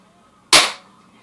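A Crosman 2100 air rifle fires once, a sharp, loud, close crack that decays quickly into near silence.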